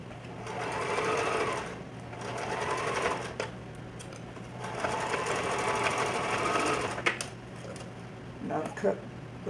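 A sewing machine stitches a 6x6 wig closure onto a mesh dome cap in long whirring runs, pausing between bursts and ending in short stop-start stitches.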